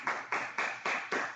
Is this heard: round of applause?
yes